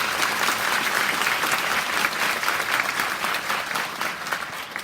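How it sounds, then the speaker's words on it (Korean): Strong, continuous audience applause at a Korean emergency-medical event welcoming medical association guests, dense and even clapping throughout. "특별히 큰 박수를 부탁드리겠습니다"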